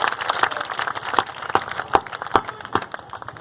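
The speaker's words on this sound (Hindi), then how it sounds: "एक बार मुझे थोड़ा सा ताली बजाकर बता दें स्वागत" Scattered clapping from an audience at a Hindi poetry recital, a thin patter of individual claps with a few sharper, louder ones, fairly quiet and uneven.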